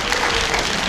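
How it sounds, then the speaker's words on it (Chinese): A crowd at a Christmas event in an Atayal church in Wulai claps briefly, with a short, dense burst of close applause. "好，掌声鼓励。"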